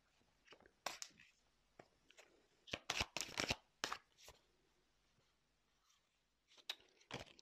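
Tarot cards being shuffled and handled, quiet riffles and slaps in irregular bursts with brief pauses, close and soft.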